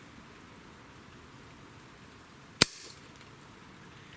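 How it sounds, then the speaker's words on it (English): The hammer of a Remington 1875 single-action revolver falls during a trigger pull test with a Lyman trigger gauge, giving one sharp, loud metallic snap with a brief ring-out against a quiet indoor background. "let's do a quick trigger test on our 1875"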